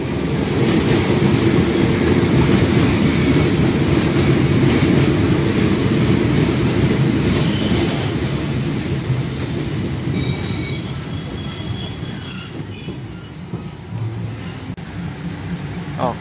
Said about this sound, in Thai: ออกสถานีรถไฟวัดสิงห์แล้วนะครับ